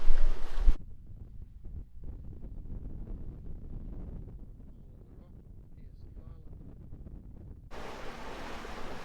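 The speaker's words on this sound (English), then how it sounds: "It continues to be very gusty." Gusty wind buffets the microphone aboard the sailboat SV Catmantoo as it rounds the outside of Piercy Island near Cape Brett in the Bay of Islands, with loud rushing bursts at the start and end and a lower, steady wash of sea between them.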